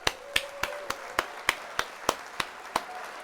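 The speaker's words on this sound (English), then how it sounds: "We gotta hit the applause there." Slow, evenly spaced single claps from a livestream applause sound effect, about eleven sharp hits in a steady beat, each crisp and close against a quiet background.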